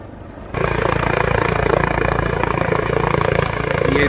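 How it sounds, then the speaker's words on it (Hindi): A helicopter arrives to land near a helipad in Ramra village, its rotor thumping loud and steady as the machine closes in, dominating the scene with no talk over it. "और देखिए हेलीकॉप्टर आ चुका है।"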